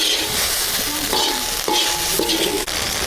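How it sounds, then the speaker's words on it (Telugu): Grated coconut scraped and stirred in a hot pan for village-style coconut laddu, a steady close sizzle with repeated scraping strokes of the spoon across the pan bottom. "కొబ్బరిని ఇట్లా కలుపుతానే ఉండాలి."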